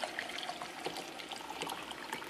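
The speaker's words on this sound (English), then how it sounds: "You get your water, it's very hot water, and you pour it in." Very hot water poured into a cup, a continuous close trickling splash with bubbly high detail, steady and moderately loud for about two seconds.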